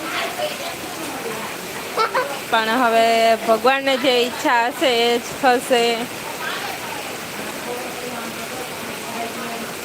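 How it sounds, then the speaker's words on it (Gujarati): Heavy unseasonal summer rain pours steadily in Keshod, a constant dense hiss running through the whole stretch while a person talks over it in the middle. "તો ખૂબ જ વરસાદ આવે છે જુઓ"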